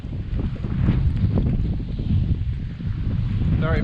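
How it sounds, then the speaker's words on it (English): Strong wind buffets the microphone on an exposed stretch of the Ridgeway trail, a continuous low rumbling roar that swells and eases with the gusts, close and loud. "Very, very windy, exposed part of the Ridgeway up here."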